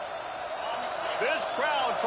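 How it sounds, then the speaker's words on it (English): The Notre Dame football stadium crowd roars in a loud, sustained wash of noise, with excited whoops and shouts rising over it near the end. "This place is roaring"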